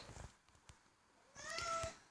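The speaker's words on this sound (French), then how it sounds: "Désolée si vous entendez mon chat." A cat meows close by, a drawn-out call near the end, after some faint shuffling noises; no one speaks.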